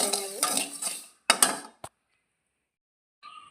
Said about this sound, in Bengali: এবারে আমি মশলাটা ঢেলে নেব।